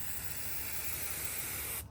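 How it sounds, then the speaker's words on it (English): Car paint primer hisses from an aerosol can in one steady, loud, continuous spray lasting nearly two seconds before cutting off abruptly. "Spray about 8 to 12 inches from the car and do a light coat only."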